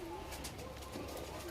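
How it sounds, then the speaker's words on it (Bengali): Male green-eyed pigeon cooing softly at close range, a low steady murmur running through the whole moment alongside background chatter and a faint hiss. "এটা চোখের পায়রা, নর পায়রা"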